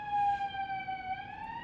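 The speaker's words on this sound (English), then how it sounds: "forgive the sirens outside. It's kind of noisy." Emergency siren outside in a city, a steady wailing tone with faint harmonics drifting slightly in pitch, heard from some distance through a room.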